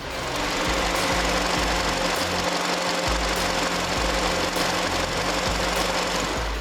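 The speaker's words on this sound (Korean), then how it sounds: "마지막으로 엔진 소리 한번 들려드릴게요" A Hyundai Sonata The Brilliant LPI (LPG-fuelled) car engine idles steadily, a dense continuous mechanical hum with faint regular ticking, close and unchanging, no voices.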